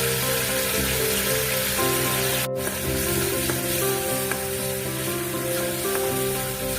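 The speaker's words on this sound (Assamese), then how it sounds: "ফিছ মছলাখিনি মই ভালদৰে মিহলাই লৈছোঁ।" Fish masala is stirred into a bamboo shoot fish curry in a pan, giving a steady, loud sizzle with light scraping and stirring sounds throughout and no talking.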